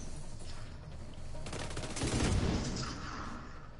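Sustained burst of automatic gunfire in the shooter game The Division 2, a dense rattling volley that swells loud midway and then thins into scattered shots, with no talk over it.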